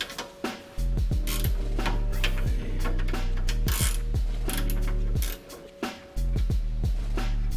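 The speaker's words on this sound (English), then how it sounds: "I'll get a little more use out of this 22 millimeter ratcheting guy here." A 22 mm ratcheting wrench clicks rapidly on the torsion bar of a Land Cruiser 100 Series, close and loud, in repeated bursts of ratchet strokes separated by brief pauses.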